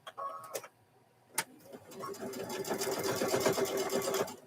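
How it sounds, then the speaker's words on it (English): A sewing machine runs a seam on a fabric microwave bowl koozie, a steady rapid stitching whir building from about two seconds, preceded by a few sharp clicks and handling knocks. "need to sew a little bit further on that"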